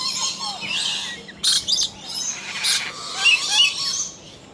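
Lory parrots in the Lory Loft aviary at Bird Paradise, Mandai Wildlife Reserve, Singapore, chirp and tweet in a dense, continuous chorus with sharper calls standing out now and then.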